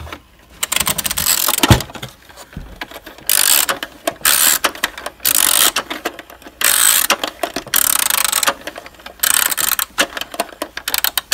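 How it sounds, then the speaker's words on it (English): A Fisher-Price music box record player is wound up by hand, giving loud ratcheting clicks in repeated bursts with brief pauses between turns, close and alone. "So you wind it up."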